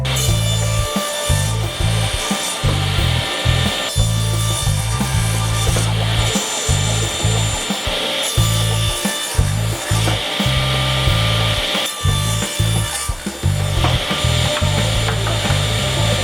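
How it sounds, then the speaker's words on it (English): A hand saw cutting thin wooden boards to length, long rhythmic back-and-forth strokes rasping through the wood, close and loud, with brief pauses between bursts of strokes. "Now I can start cutting my thinner boards down to 20 inches in length."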